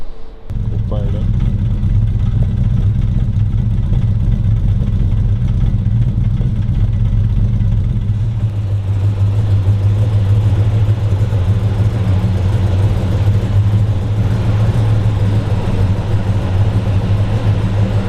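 A 1950 Chevrolet Tin Woody custom show car engine starts up after a brief crank and then runs steadily with a loud, deep rumbling idle, close by, for the rest of the stretch.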